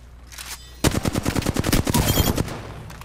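Rapid bursts of gunfire from a PS5 shooter game, a quiet lead-in followed by a dense, loud run of close shots firing in quick succession for about two seconds, then trailing off.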